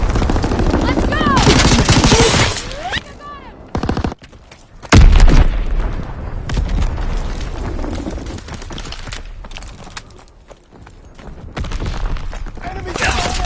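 Sustained machine gun bursts and loud gunshots in the Uncharted video game, firing in suppressing volleys with a heavy boom partway through, while game voices shout over the battle.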